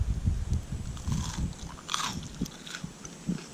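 Close-up bites into crispy shrimp toast with prawn filling, cooked outdoors in the jungle, give repeated loud crunches followed by steady chewing, with no one speaking.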